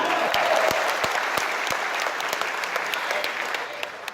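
Steady applause from a crowd at an organizational congress in Jakarta, loud and continuous with sharp claps standing out, fading slightly at the end.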